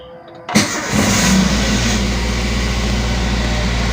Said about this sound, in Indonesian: Pastikan netral, kemudian kita start ya.